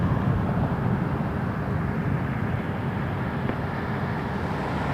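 Dash 8 Q400 turboprop engines at Toronto Pearson Airport, a steady broadband roar heard from a distance, continuous and fairly loud with wind-like hiss throughout.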